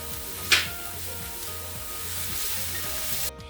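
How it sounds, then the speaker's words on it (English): Half a cup of onions sauté in a tablespoon of butter in a pan, producing a continuous close sizzle, with one sharp clatter early on, before the sound cuts off abruptly. "we're sauteing a half a cup of onions in a tablespoon of butter"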